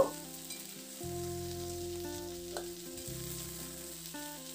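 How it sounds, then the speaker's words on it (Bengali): Flat beans fry in a pan with a soft, constant sizzle while being stirred, with occasional scraping and clinks from the utensil, no voices. "শিমটাকে দিয়ে দেখুন নাড়াচাড়া করে মিনিট 4-5 সময় ধরে আমি ভেজে নিয়েছি"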